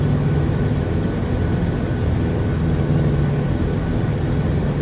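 A propeller aircraft engine at full throttle with the prop pitch set, a steady, loud, low droning roar that holds unchanged throughout.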